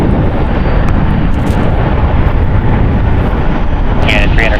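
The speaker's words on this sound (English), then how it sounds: "we have United Airlines flight 8969 going to Hong Kong. It is a Boeing 777-300ER" A United Airlines Boeing 777-300ER jet, six years old and bound for Hong Kong, departs San Francisco International with a loud, steady, broadband engine roar that fills the scene, buffeted by wind noise.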